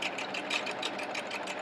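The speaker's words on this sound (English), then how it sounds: "Now the sewing machine should automatically raise the needle so it's out of the thread" Home sewing machine stitching a decorative line across a pillow, a steady, continuous rapid whir with fast rhythmic needle pulses, close and moderately loud, heard alone.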